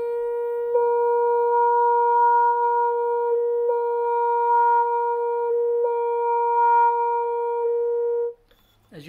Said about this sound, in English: So what you heard right now is kind of the traditional Harmon wah-wah mute.